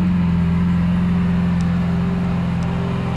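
A 2015 Lamborghini Aventador Roadster engine idles with a steady, deep rumbling hum, loud and close, holding an even tone without revving.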